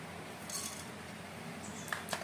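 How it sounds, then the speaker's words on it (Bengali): Whole coriander seeds go into a dry pan for roasting, giving a few faint, light clinks and patters over quiet background hiss, with a couple of sharper small taps near the end. "প্রথমে আমাদের কয়েকটা গোটা মশলা শুকনো খোলায় ভেজে নিতে হবে।"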